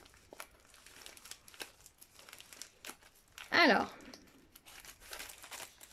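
A sealed plastic pouch from a diamond painting kit crinkles sharply for about half a second as scissors cut it open, a brief loud burst amid quiet room noise with someone speaking before and after.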